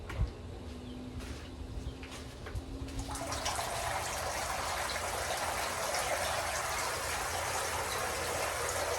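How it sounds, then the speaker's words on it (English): A pump switches on in a homemade bait tank, drawing water from the bottom up through a hose into a bucket; after a low hum, a steady loud gushing, splashing stream of water fills the scene and continues without pause. "what that pump is doing is it's pulling the water from the bottom, going up through this hose here into that bucket"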